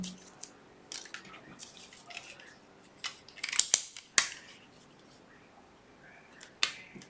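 Scissors snipping through a paper box to cut out a window, a scattering of sharp, close clicks and snips spread irregularly across a quiet background.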